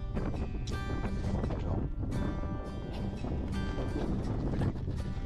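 Strong wind buffets the microphone in a steady, loud roar with gusty surges throughout, out on the water near a boat, with faint voices mixed in.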